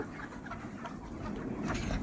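Chickens cluck at a poultry farm in Adapareddy Palli near Tirupati: soft, scattered clucks buried in a steady, noisy farmyard background, rising slightly toward the end.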